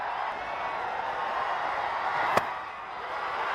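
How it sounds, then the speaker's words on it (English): A vociferous cricket crowd at West End Park for an India A versus Pakistan A match, a steady broad roar of many voices with one sharp knock standing out partway through. "There's a vociferous crowd at the West End Park"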